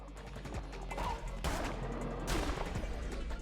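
Cannon fire in the video game Cult of the Lamb: two loud, sharp blasts about a second apart, heard over busy game noise with a steady low rumble underneath.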